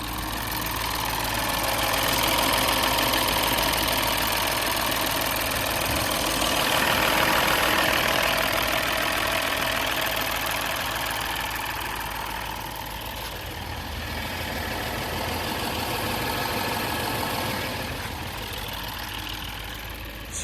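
A 2013 Mini Cooper S R56 idles on a cold start, a steady, close engine drone with a slight rise and fall in intensity and no talking.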